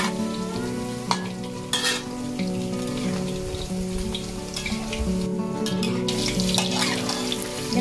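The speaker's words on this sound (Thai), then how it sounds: "เราก็จะค่อยๆทอดไปจนเขาค่อยๆเหลืองทองขึ้นมาแบบนี้นะคะมันคนไปเรื่อยๆ" Popcorn chicken deep-frying in oil while being stirred, a steady dense sizzle and bubbling throughout with occasional louder scraping stirs, close and continuous, without talk.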